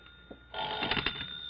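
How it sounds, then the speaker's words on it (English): A telephone rings in a 1960 radio drama, a faint click followed by a loud, close, trilling bell that warbles for about a second. "You'd better answer that phone, hadn't you?"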